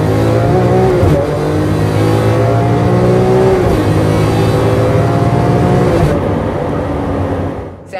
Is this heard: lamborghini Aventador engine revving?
yes